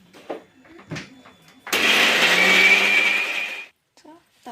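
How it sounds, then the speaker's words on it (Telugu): A mixer grinder blends nalleru chutney with tamarind and salt in one loud, whirring burst of about two seconds that stops abruptly, with a person talking before and after. "సాల్ట్ కూడా వేసుకున్నాం కాబట్టి మిక్సీ పట్టేసుకున్నాం."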